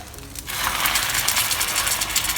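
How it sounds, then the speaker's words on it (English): Egg tofu hits a hot plate with a sudden loud hiss of sizzling that keeps up a steady, crackling fry. "Listen to a sizzling sound."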